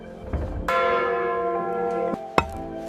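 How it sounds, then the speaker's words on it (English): A castle alarm bell at the Tower of London strikes once loudly and rings on with a long harmonic hum, followed by a second sharper strike near the end, with no voices. "The alarm bell rises, ready to summon defenders at the first sign of threat."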